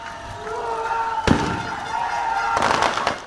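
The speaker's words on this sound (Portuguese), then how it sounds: "Centenas de manifestantes contrários ao líder do PT foram até o local e soltaram fogos de artifício para comemorar a prisão." Fireworks set off by a crowd of protesters at an outdoor gathering: a sharp bang near the middle and a burst of crackling pops toward the end, over steady crowd noise.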